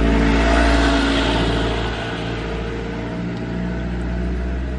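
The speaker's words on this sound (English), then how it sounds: "there's a truck coming, so there's gonna be, it's gonna be noisy." A truck passes on a street near a local post office, its loud engine rumble swelling close by and then easing slightly as it moves on.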